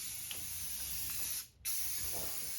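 Primer surfacer sprays out as a light mist during car body painting, giving a steady close hiss with a brief break partway through as the trigger is released and pressed again.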